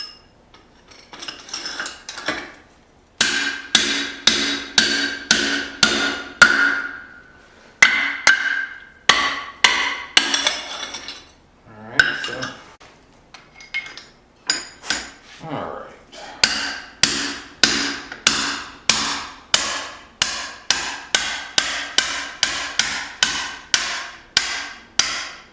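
Hammer blows forge a cleaver from leaf spring steel while a hole is punched and widened, producing bursts of sharp, ringing metallic strikes in quick rhythmic runs, close and loud, separated by short pauses.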